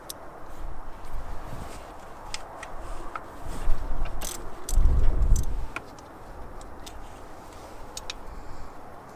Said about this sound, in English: remove the bolt that's holding the coil in place